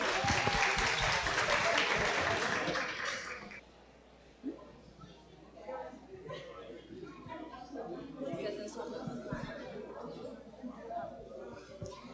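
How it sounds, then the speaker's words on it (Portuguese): Applause from an event audience rises loud and dense for about three seconds, then fades into scattered clapping under a murmur of crowd chatter and voices. "uma salva de palmas para o Renê, por favor."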